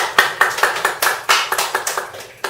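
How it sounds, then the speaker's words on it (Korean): A small group in a classroom lecture claps in sparse, distinct hand claps, roughly a dozen sharp close claps in an uneven rhythm. "네, 박수."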